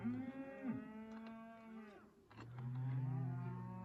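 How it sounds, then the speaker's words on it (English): Several cows moo loudly and overlap, long drawn-out lowing calls from more than one animal, close by. "You hear all those cows begging"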